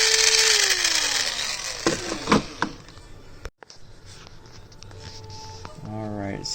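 A restored vintage Skil drill with a large gearbox runs loud and rough, a noisy motor whine that winds down, with scattered clunks, a brief cut-out, then someone talking over the quieter tail.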